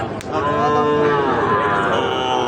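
A Sahiwal breed bull calf moos in one long, loud, close call at a busy cattle market, with faint crowd noise behind.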